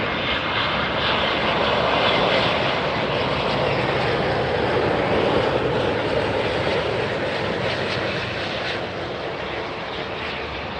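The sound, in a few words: Qatar Airways Airbus A350-1000 arriving from Doha, Miami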